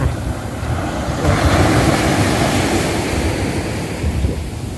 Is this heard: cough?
no